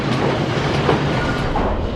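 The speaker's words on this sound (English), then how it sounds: "Keep hearing that train in the distance as well." Distant train rolling along its tracks, a broad steady rumble with faint rhythmic clatter, heard alone near an amusement park roller coaster.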